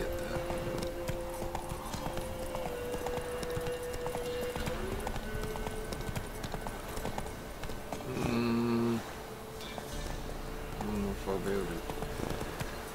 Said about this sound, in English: Running on this horse,